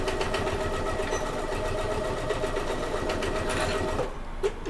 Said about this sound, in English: Make sure you reverse your stitch at the start and at the end.